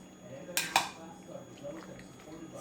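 Enchilada filling being stirred in a bowl, with two sharp clinks of a utensil against the bowl followed by soft, faint scraping.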